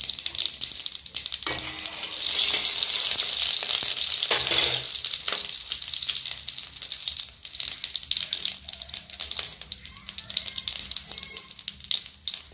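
Mustard seeds and cumin spluttering in hot oil for a Tamil egg curry, a loud, dense crackling sizzle with bursts of popping, close and continuous.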